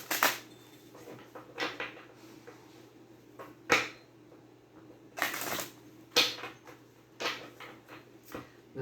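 Tarot cards being shuffled by hand make a string of sharp slaps and short riffles, close and fairly quiet, separated by soft rustling pauses.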